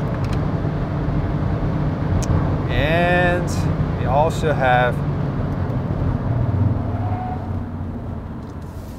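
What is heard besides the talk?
Hyundai Elantra hybrid car driving at high speed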